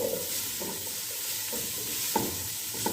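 Ingredients for chicken soup are stirred in a hot pan, giving soft scraping strokes at a steady pace over a continuous sizzle. Nobody speaks.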